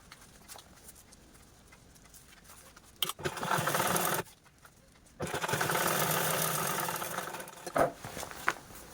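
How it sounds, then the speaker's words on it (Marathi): Sewing machine stitching a side panel of a handmade cloth handbag, running in two sustained whirring bursts with brief pauses and light handling clicks between them, close and steady. "या साईडने पण अशा पद्धतीने आपल्याला हा पार्ट आहे तो स्टिच करून घ्यायचा आहे"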